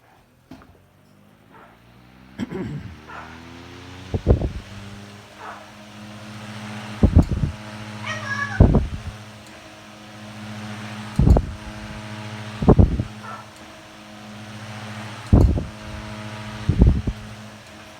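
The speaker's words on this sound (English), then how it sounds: "So we'll start the motor up and let you see it run." A restored 1910 Westinghouse electric fan motor starts and runs, giving a steady low hum with a soft whir. Repeated heavier thumps or clacks recur about every two seconds over the running drone, close by and with no talk.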